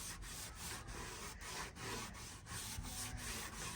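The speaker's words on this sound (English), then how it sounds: "then just with my rag buffing it in" A rag buffs white paint into a seventy-year-old oak door along the grain, producing close, rhythmic rubbing strokes at a brisk, even pace, roughly three per second.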